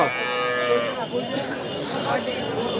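A Sahiwal cow moos at a busy cattle market, one drawn-out low call up close, with people talking faintly in the background.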